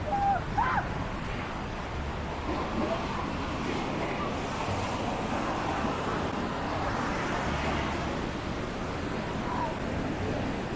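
Ocean waves at a beach in cold, stormy weather roar as a steady, dense wash of surf noise that fills the whole stretch, loud and continuous with little break, and no clear voices over it.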